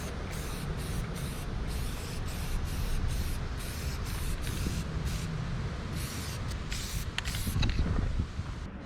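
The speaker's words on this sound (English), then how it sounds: "I'm gonna spray paint it really fast." A spray can hisses in repeated short bursts and longer passes while paint goes onto a Sears 10XL garden tractor part, the steady close hiss broken by brief pauses.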